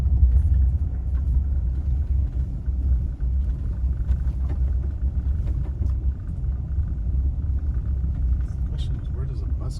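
A car cruises slowly around a trailhead lot near Devils Tower hunting for a parking spot, its cabin filled with a steady, close low rumble of engine and road noise throughout, with faint muffled voices underneath.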